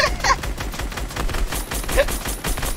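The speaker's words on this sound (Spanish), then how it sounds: "En medio de todos los disparos" Rapid bursts of video game gunfire crackle in overlapping volleys, loud and dense, with faint voices mixed underneath.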